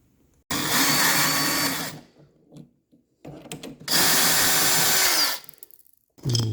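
A power drill backs two screws out of a Vissani HVDR45B mini refrigerator-freezer, two loud whirring bursts with quiet handling between, then a third burst starting at the end.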